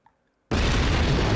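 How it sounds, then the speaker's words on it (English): An explosion in the Gear Detective puzzle game bursts abruptly after a brief near-silence, a loud sustained boom filling the rest of the moment. "An explosion. There's been an explosion."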